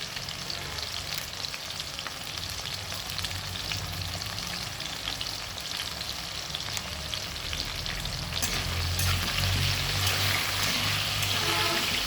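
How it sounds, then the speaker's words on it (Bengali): Potato pieces frying in hot oil with salt and turmeric in a home kitchen, a continuous close sizzle that swells louder toward the end and is heard alone, without talk. "ধুয়ে আমি ভালো করে আলুগুলোকে ভেজে নিচ্ছি"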